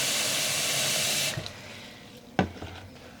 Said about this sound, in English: So I'm adding in about an extra liter of water.